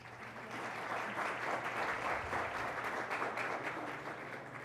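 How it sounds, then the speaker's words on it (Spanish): A conference audience applauds steadily throughout at a legal seminar on artificial intelligence in the Dominican Republic, following a speaker introduction; the dense, sustained clapping of many hands is fairly distant and stays even from start to finish. "No seamos tacaños con los aplausos."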